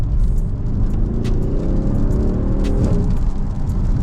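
Engine of a rain-soaked Mercedes-AMG GLC 63 S, rated at 500 bhp, droning steadily while driving, with a loud continuous low rumble that rises in pitch as it accelerates, heard from inside the car, no talking.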